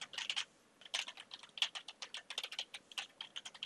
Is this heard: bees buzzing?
no